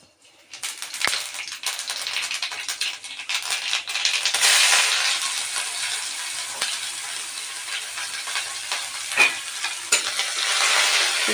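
Chopped onion and garlic sizzle and fry in hot oil in a kadai for an Odia drumstick curry, with steady crackling, bursts of spatter and occasional stirring scrapes, close and continuous, with no talking.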